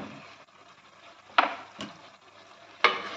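Coconut burfi mixture with chocolate powder stirred in a pan: quiet, soft scraping and a faint sizzle, broken by three distinct clacks of a spoon against the pan.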